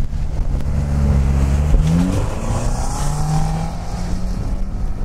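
A studded-tire two-litre Renault Duster revving hard while climbing a snowy slope, engine pitch rising sharply then holding at a loud, strained drone close by.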